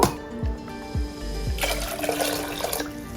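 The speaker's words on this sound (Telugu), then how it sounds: "నేను ఈ కప్పుతో 2 కప్స్ వాటర్ పోస్తున్నాను" Water pours steadily into a metal pot, a few low thuds at the start, then a brighter rushing splash that fills the rest of the clip.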